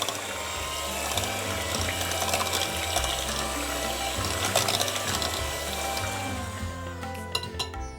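Whisk stirring rosemary into a thick goat milk soap mixture in a bowl, a steady wet swishing and clicking that runs continuously, close and moderately loud, with no talking.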